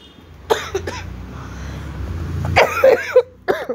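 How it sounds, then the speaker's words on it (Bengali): A person nearby gives a short burst of loud, throaty coughs, pauses, then coughs several more times in quick succession, against quiet kitchen background noise. "জল দিয়ে হঠাৎ করে কাশি চলে এলো বলে আমি একটুখানি পজ করে দিয়েছিলাম"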